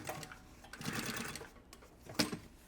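A sewing machine stitches along the seam of a puffer backpack, a close, rapid whirring run of needle strokes that pauses briefly and then resumes in a short burst.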